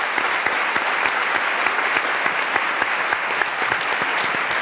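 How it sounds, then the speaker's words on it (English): Sustained applause from a lecture audience at a women's justice event, dense steady clapping filling the whole stretch with no talk over it. "So join me in one more round of applause."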